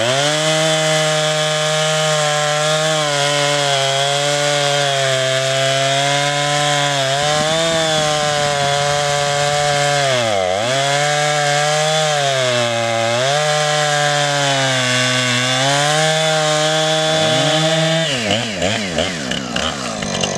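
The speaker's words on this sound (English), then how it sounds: "My saw is just about an inch too short to cut this straight through" A chainsaw cuts a thick piece of firewood in the mountains, its bar slightly too short to pass straight through. The engine screams loud and close throughout, pitch dipping and recovering as it bogs in the cut, with no talk.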